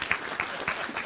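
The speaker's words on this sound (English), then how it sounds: "Give her a round of applause." People at a community planning meeting give a round of applause for a speaker: a short burst of moderate clapping from a modest-sized group in an indoor room.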